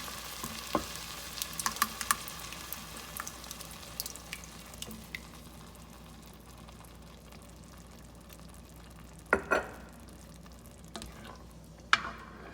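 Lasagne sauce simmering in a pan on low heat, a steady low bubbling sizzle broken by a few scattered clinks and scrapes of a stirring spoon, with two sharper knocks near the end.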